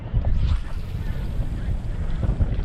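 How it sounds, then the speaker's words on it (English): Strong wind buffets the microphone on a Norwegian shore during shore spinning for coalfish and mackerel, a steady loud low roar with gusting surges throughout and no voices. "the wind's picked up."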